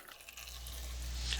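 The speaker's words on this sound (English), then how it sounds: "I'm going to let it seep through the holes and through the entire unit." Bleach and water solution seeping and trickling through a handheld shower head's holes, a soft continuous watery hiss with a low steady hum underneath.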